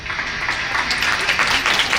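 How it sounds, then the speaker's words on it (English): Audience at a company annual general meeting gives a round of applause, a brief, continuous rush of many hands clapping in a hall, fairly loud and steady throughout. "You all deserve a round of applause."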